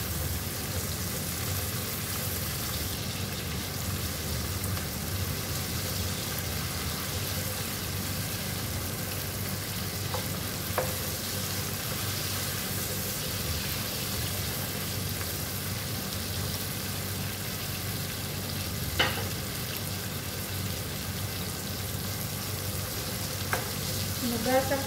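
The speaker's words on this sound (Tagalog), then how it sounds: "Prito ko muna ang dilis para" Anchovies (dilis) fry in a pan, a continuous dense sizzle with a steady crackling hiss that holds evenly for the whole stretch, close and fairly loud, with an occasional faint clink.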